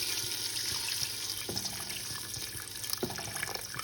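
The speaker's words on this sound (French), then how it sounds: "Là je vais rajouter un peu d'eau chaude" Hot water runs steadily into a fennel and pea tagine in a home kitchen, a continuous close splashing pour with a few faint clinks.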